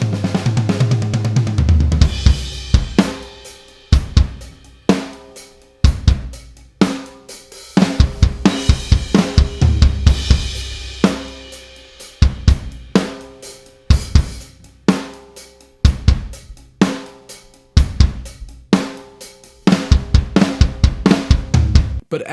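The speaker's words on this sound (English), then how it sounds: "I'm gonna show you how to make the same drum performance sound everything from tight and in your face to roomy and huge." A rock drum kit recorded dry through ribbon microphones, with no reverb, plays a steady groove of punchy kick and snare hits and crashing cymbals, loud and upfront throughout with no talk.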